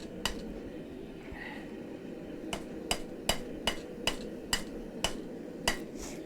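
A hammer rings on a rail spike over an anvil during forging, with a few scattered blows and then a steady series of sharp metallic strikes about every half second over a low background roar.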